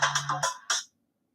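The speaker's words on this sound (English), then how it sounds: "my phone's ringing now" A mobile phone ringtone plays a short melodic phrase of bright, chiming notes, fairly faint, then cuts off into silence.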